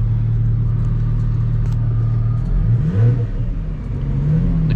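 Supercharged engine of a Lotus Exige 360 Cup with its exhaust valves open, a loud steady low rumble that swells briefly into a rev before settling back to a near, continuous drone.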